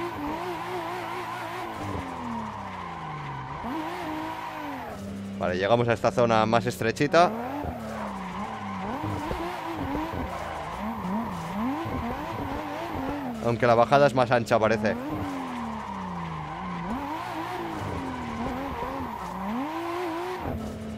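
Drift car engine whining steadily in the Assetto Corsa racing game with a Nissamaro drift mod, broken by two loud bursts of screeching tire squeal, while someone talks over the action.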